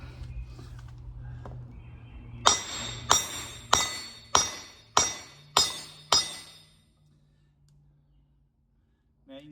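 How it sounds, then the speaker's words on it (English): Seven sharp metallic hammer blows flatten the unthreaded end of a metal rod for a planer board, struck at an even, roughly half-second rhythm with ringing decays, close and loud after a quiet start. "I'm gonna flatten out the end so I can drill a hole through it."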